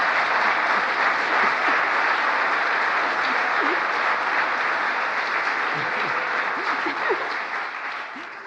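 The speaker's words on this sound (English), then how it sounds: "I think that's an applause line." An audience at a presidential speech applauds, a dense, steady burst of clapping lasting several seconds that tapers slightly at the end.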